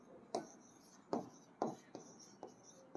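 Chalk or marker strokes on a classroom board, five short scratchy strokes in an uneven rhythm, close and fairly quiet, with no talking over them.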